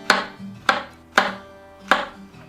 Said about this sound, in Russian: Нарезаем средними кусочками.